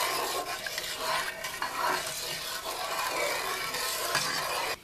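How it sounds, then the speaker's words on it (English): A spoon stirs sugar and apple cider vinegar in a pot for pickle brine, giving a steady scraping swish with light clinks throughout, close and moderately quiet, with no voices. "we're going to stir this, and then we're going to bring it to a boil"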